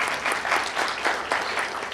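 Warm applause from an audience gathered for a film screening, a full steady wash of many hands clapping with slight rhythmic swells throughout.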